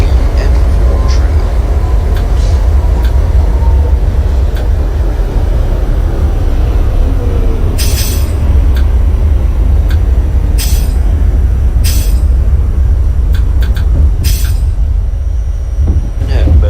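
An NYC Subway R68 train running in a simulated ride on the D line toward Coney Island via West End, with a steady loud rumble and rolling roar, punctuated by several sharp hissing bursts.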